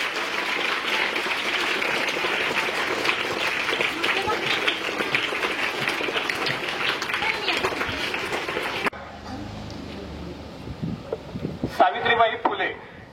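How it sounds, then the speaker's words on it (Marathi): Loud sustained applause from a school audience welcoming a guest at a Savitribai Phule birth anniversary event, a dense clapping wash that cuts off abruptly, followed by quieter room sound and a brief burst of claps. "सर्वांनी जोरदार टाळ्या वाजवून त्याचं स्वागत करायचं."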